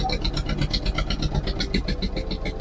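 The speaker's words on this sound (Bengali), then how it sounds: "এভাবে আমাদের নৌকা চলেছে।" A boat's engine drives it along a river channel through the Sundarbans forest, a steady close throbbing drone with rhythmic pulses throughout.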